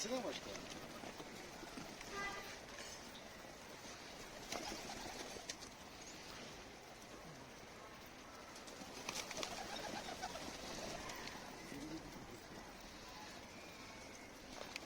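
Pigeons coo in an outdoor setting near a coop, with intermittent wing flaps and scattered bird calls over a steady background hiss, while people talk loosely nearby.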